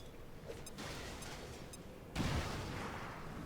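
A grenade going off in the video game XCOM 2: one quiet, sudden blast that lifts into a broad, noisy rush and stays up for over a second, following a stretch of low, steady game noise.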